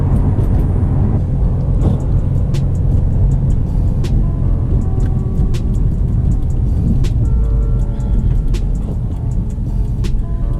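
A 2019 Subaru WRX STI's turbocharged engine drones loud and steady from inside the cabin while driving, with deep low rumble and occasional sharp clicks and rattles over the top.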